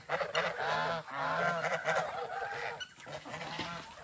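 A flock of turkeys calls noisily and continuously, overlapping honking gobbles rising and falling close by.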